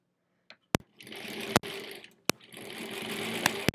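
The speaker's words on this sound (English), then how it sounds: "I want to stitch exactly on that line." Sewing machine stitching foundation paper piecing for a quilt block, running in short bursts of rapid mechanical whirring broken by sharp clicks and brief pauses, loud and close, with no talk.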